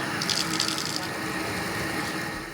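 Water runs steadily from a bathtub tap at a safari camp in Kenya, a close, continuous broadband rush with no pauses for the whole stretch.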